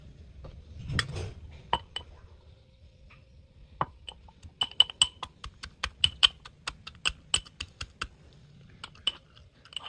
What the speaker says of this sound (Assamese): মই অকমান কুকাৰৰ পৰা ওলাই অকমান থেতেলি লৈছো খুন্দনাত এটো যাতে নৰম হৈ একদম গুড়া হৈ যায়